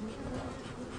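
Honey bees hum in a beehive during royal jelly production, a dense steady buzz that is close and continuous for about a second.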